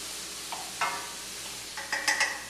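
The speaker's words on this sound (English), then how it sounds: "I'm just going to saute this sort of on a medium heat" Sliced mushrooms sauté over medium heat with a soft, steady sizzle and a few light scrapes and clicks of a utensil toward the end, fairly quiet and close, with no talking.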